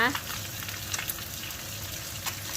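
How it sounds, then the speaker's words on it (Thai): Egg stir-frying in hot oil with pounded chili and garlic in a pan, a dense continuous sizzle with light stirring scrapes, loud and near. "จากนั้นเราก็ใส่ไข่ลงไปผัดให้สุกนะคะ"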